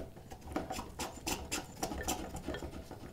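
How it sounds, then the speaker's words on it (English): A flat-bottomed spokeshave shaves a rounded wooden part for a turning saw, making quick repeated scraping strokes at close range in a steady rhythm. "the other thing that I can grab is a spoke shave, and I can clean things up down to that line"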